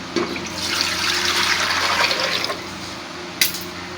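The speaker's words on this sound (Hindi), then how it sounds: "पहले हम इसके अंदर पानी डालेंगे।" Water gushes steadily into a pressure cooker for a couple of seconds, then tapers off, followed by a short clink.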